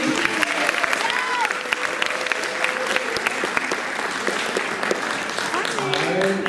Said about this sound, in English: a round of applause for our 6th grade video